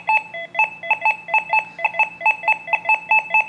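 Deus 2 metal detector on a buffalo nickel gives repeated two-tone electronic beeps, a steady rhythm of short paired pitches about four times a second, close and clear with no talking.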